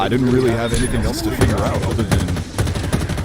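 Video game gunfire crackles in rapid automatic bursts under someone talking over it, close and loud.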